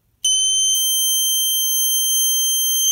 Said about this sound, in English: The horn and white LED are now on steadily.